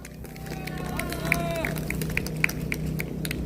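A crowd at an outdoor political rally in Daegu claps for a pastor, a dense ongoing patter under chatter, with a voice rising over the noise.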